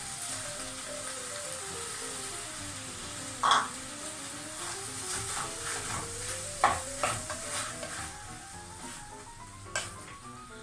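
Tomatoes go into a broiler chicken stew cooking in a pot, with a soft sizzling simmer, stirring scrapes and a few sharp clinks of a spoon against the pot.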